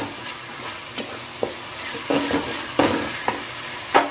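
Chopped beans and mixed vegetables stir-fry in a pan for veg fried rice, a steady sizzle broken by scraping stirs and a few sharp spatula knocks, with no voices.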